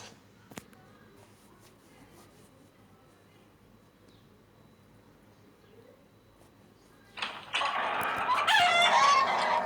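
Quiet room tone with a few small knocks, then a sudden burst of loud, busy video game chicken clucking and squawking for the last couple of seconds.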